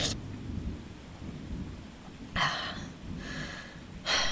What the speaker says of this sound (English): if this storm lasts too much longer...